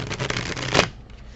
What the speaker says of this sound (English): because you know how I love rifle shuffling